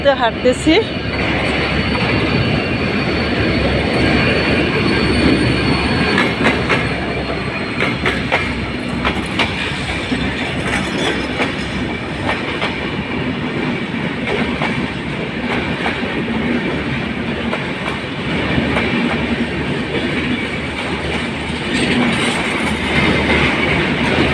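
A train rumbles past close to someone walking beside the tracks, with steady clickety-clack of wheels on the rails, loud and continuous throughout, with a voice talking intermittently over it.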